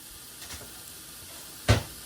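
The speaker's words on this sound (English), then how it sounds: "we're just going to dump our meat up in there like that" Meat dumped into a very hot pan for chalupa filling lands with one loud, close burst of sizzle, preceded by a couple of fainter hissing spurts over a low background.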